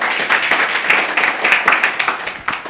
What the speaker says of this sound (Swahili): Makofi kidogo kwao.